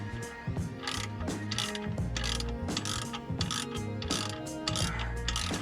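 Torque wrench tightening a nut on a U-bolt for a Jeep JLUR differential glide plate, giving rapid ratcheting clicks in uneven bursts, close and moderately loud, with no talking.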